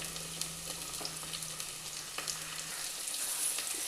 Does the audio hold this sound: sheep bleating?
no